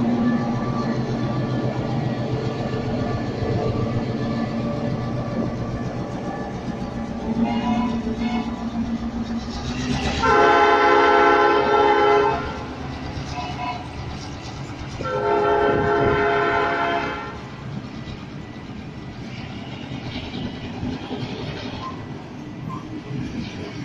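A Sydney passenger train pulls out of Clarendon station, its loud rumbling engine and wheels near and steady, with two long horn blasts sounding partway through.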